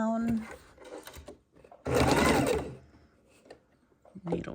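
A sewing machine stitches raw edge appliqué, a dense burst of motor whir lasting about a second between pauses, with someone talking over the quieter stretches.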